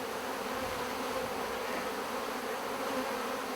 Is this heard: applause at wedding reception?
no